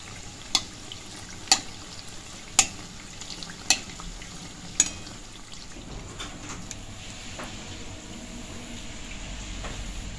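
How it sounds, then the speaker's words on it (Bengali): Dhaka-style paratha fries in hot oil, a low steady sizzle with several sharp clicks or taps at roughly one-second intervals early on, then a continuous crackling hiss up close with no voices. "গরম তেলটা এর মধ্যে দিলেই লেয়ারগুলো খুলে যাবে আর ফুলে উঠবে"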